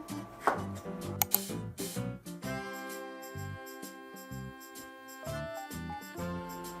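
A knife makes a few crisp cuts on a board while thinly slicing oiji, Korean pickled cucumber; the sharp chops come early and music plays underneath and carries on after.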